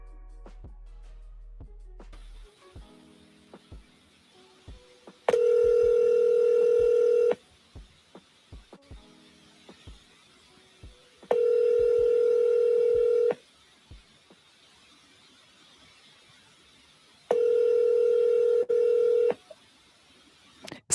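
Telephone handset during a voicemail call: a steady dial tone, then three long two-second DTMF tone bursts separated by quieter gaps with faint clicks, clear and close, no talking.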